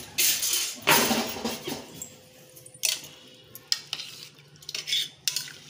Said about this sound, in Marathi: सगळं हलवून घ्यायचं